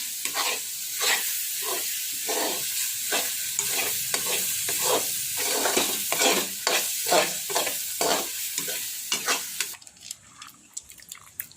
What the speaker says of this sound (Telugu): చూసారుగా నూనె పైకి వచ్చింది మనకి. కలబెట్టుకున్నాము.